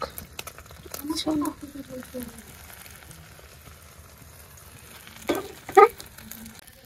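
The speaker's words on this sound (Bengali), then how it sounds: "ডিম ভাজা শেষ, এবার খাওয়ার পালা" Eggs fry in a pan with a soft, steady sizzle, punctuated by a few brief clinks and short bursts of voice.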